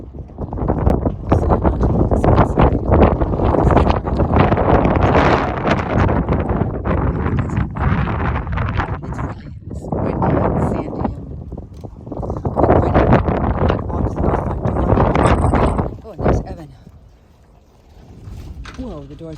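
Strong desert wind at Wadi Rum buffets the microphone in loud, gusty roaring bursts beside a tent, while a person talks over it and the gusts ease near the end.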